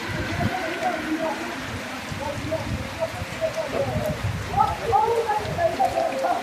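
Steady rain falls throughout, a dense broadband patter with scattered brighter drips and splashes on nearby surfaces, fairly close and continuous with no talk over it.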